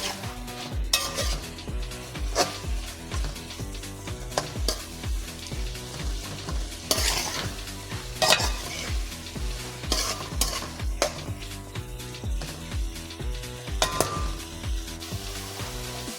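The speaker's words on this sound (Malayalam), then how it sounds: "എല്ലാത്തിനും മൊത്തത്തിൽ ഇതുപോലെ നല്ല രീതിക്ക് ഒന്ന് മിക്സ് കൊടുക്കാം" Cauliflower with turmeric powder is stirred in a pan, with rhythmic spoon scrapes and clinks against the metal over a continuous sizzle, close and fairly loud, with a faint tonal hum underneath and no talk.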